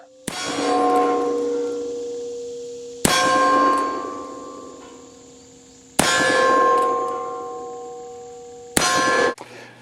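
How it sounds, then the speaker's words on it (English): A Remington revolver fitted with an R&D conversion cylinder fires four sharp reports at even intervals. Each shot is followed by a long, bright metallic ringing that fades before the next one. No voices are heard. "We'll shoot the R&D conversion cylinder one more time."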